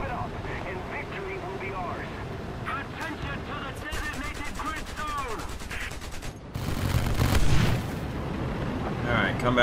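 In the War Thunder flight game, aircraft strafe with rapid bursts of gunfire over a droning engine, with explosions rumbling in later and voices heard in the mix.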